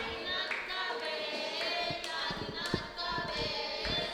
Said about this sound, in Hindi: ताली को गड़गड़ाती बजाएंगे।